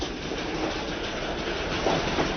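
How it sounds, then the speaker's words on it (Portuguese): A narrow-gauge train runs along the Volga line in Portugal, opened in 1908, with a continuous loud rumble and rhythmic wheel clatter on the rails, heard close and steady throughout. "A viagem prossegue agora pela via estreita do Volga, inaugurada em 1908."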